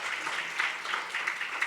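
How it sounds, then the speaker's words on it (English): Applause from a gala audience at an anniversary celebration, a short burst of steady, fairly soft clapping from many hands, with no talk over it. "Please give the ladies a welcome applause"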